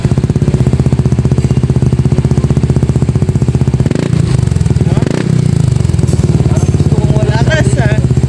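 A Yamaha Nmax V2 scooter fitted with a VMAX Racing power pipe exhaust idles loud and close with a fast, even, throbbing beat, briefly revs up and settles, with a voice heard faintly near the end.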